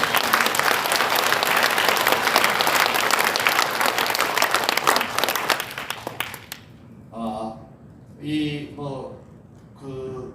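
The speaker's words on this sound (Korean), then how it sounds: "이럴 때 있어서는 한번 우리 그 역할을 하는 분들에도 박수 한번" Audience at a launch ceremony breaks into loud, sustained applause that fills the first six seconds, then fades out as someone speaks.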